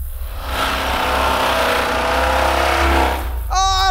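BMW engine run without oil until it fails, a loud sustained high rev that strains and holds, then drops away near the end, close up with no talk.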